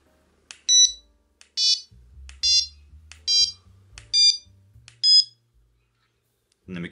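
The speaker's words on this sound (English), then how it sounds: "So here with this bite alarm, we can turn it on. It will beep to tell me that it's on and flash." A carp fishing bite alarm gives six short, clear electronic beeps in a steady rhythm, loud and close, with faint handling clicks between them.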